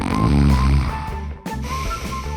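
A spouse snoring, one loud rasping snore drawn in at the start, then a short pause and a softer, buzzing follow-up breath, close and alone.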